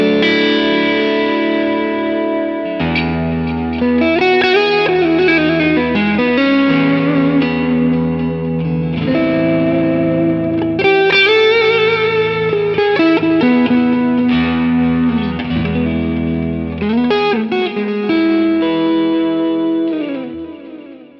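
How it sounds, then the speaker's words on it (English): An electric guitar runs through a Quad Cortex preset, moving between crunch, clean and distorted tones in loud, sustained chords and ringing notes with chorus and reverb, no talking. "It's very interesting with crunch, clean and distorted sounds."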